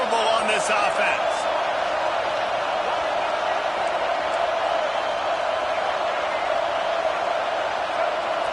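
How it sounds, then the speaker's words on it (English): A dense, unbroken stadium roar fills LSU's home field in College Football 25, steady and loud throughout, with a few sharper shouts near the start and faint commentary beneath. "this crowd is making it miserable on this offense"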